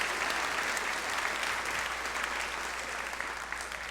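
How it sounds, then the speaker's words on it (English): An audience at a high school senior awards ceremony claps together in sustained, dense applause, steady and even from start to finish. "Let's have one more final round of applause"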